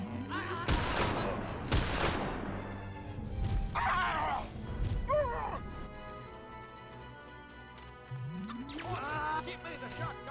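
Gunfire in the video game Destroy All Humans!, bursts of shots and crashes spread through the clip while voices talk over the action.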